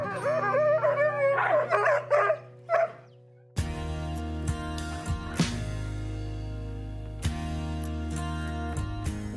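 Arctic-breed sled dogs used for harness racing howl and yip in a short, wavering chorus that rises and breaks off after a few seconds, followed by steady background music.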